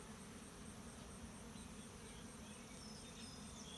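Honey bees buzzing steadily while being moved out of hive boxes; a dense, continuous low hum of many insects, close and constant, with no talk.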